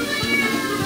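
A cat meows close by, a few short soft calls over a steady background hum of running water or an appliance, with no talking.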